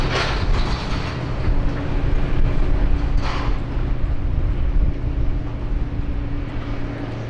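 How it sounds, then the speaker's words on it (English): A Regional Express Saab 340 turboprop takes off down runway 16 right at Sydney Airport, a steady rumbling engine roar with a faint hum, fairly loud and heard from a distance throughout. "Here goes Regional Express sub 340 heading off to Albury as Reg 6773. They're thundering down runway 16 right."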